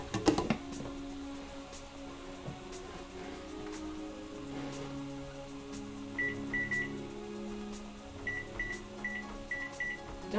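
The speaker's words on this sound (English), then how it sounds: "Don't want to turn on the microwave, just the timer." Kitchen microwave timer being set: a clatter at the start, then a low hum and several short electronic beeps in quick groups, clear and close.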